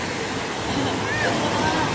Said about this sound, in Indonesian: aliran arus daripada ombak ini, air laut ini yang membawa ke sini